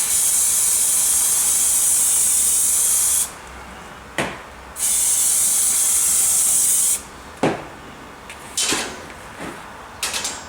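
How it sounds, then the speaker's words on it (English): A spray bottle wets turf weed on a model railway puff tree in two long, loud hissing bursts, broken by sharp clicks and followed by a scatter of knocks and taps. "I'll give that a spray."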